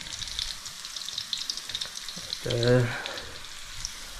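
Pork sautéing in a pan for Ilocano pakbet sizzles and crackles steadily, with a voice speaking briefly partway through.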